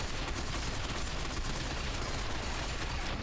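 Sustained automatic gunfire in the shooter game Binary Domain, a continuous dense rattle of rounds with no pauses, loud and near, filling the whole stretch without any talking over it.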